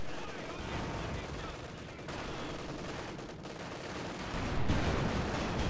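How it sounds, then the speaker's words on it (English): Steady rifle fire from Soviet conscripts during a large 4v4 battle in Company of Heroes 2, a continuous low crackle of shots mixed with distant rumbling combat, fairly faint overall. "Conscripts opening fire along with a huge allied counterattack"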